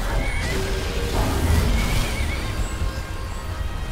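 A horse whinnies amid clashing, thudding fight noises in Skyrim Anniversary Edition, a short neigh rising over steady, busy game clamor.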